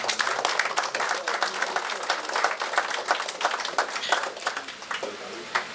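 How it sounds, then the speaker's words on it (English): Applause from guests at a police service 50th anniversary celebration dinner, a dense, steady round of clapping that carries evenly through the whole stretch with some murmuring underneath. "And I think you all deserve a special round of applause."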